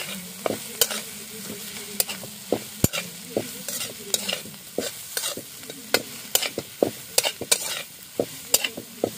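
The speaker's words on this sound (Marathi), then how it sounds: "आणि आता हा चांगला परतून घ्यायचा व्यवस्थित." Tender young jackfruit frying in a pan, Malvani style, with a low steady sizzle under repeated sharp clacks and scrapes of a spoon stirring against the metal, close and without talk.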